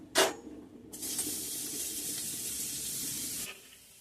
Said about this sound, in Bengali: আমি এখানে লঙ্কাগুলো ভেজে নিচ্ছি